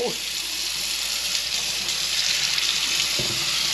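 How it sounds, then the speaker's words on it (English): Steady rush of water from a kitchen tap running through seeds, close and loud, constant hiss throughout with a faint clink near the end. "running the water all through it"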